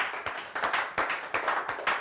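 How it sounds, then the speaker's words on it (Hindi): An audience at a direct-selling training session claps in uneven bursts, with the loudness swelling and dipping over a couple of seconds. "एक बार जोरदार तालियां आप सभी के लिए"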